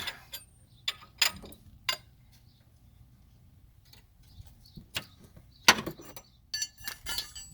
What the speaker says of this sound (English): we're back with the wrench click